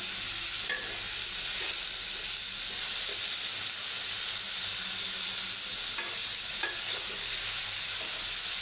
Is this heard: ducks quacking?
no